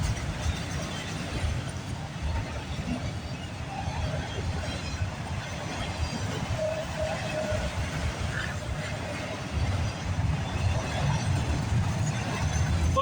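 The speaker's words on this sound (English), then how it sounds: "Looks like we're gonna have a marathon of trains right now." A CSX-led freight train rolls along the CPKC Galt Subdivision at Bronte, a steady low rumble of wheels and cars with faint squeals, sustained and fairly close throughout.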